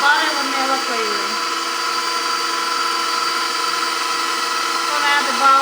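An electric mixer whirs steadily through a marshmallow cookie mixture flavored with butter vanilla, a constant close motor drone with layered harmonic tones holding level for several seconds, with no talking over it.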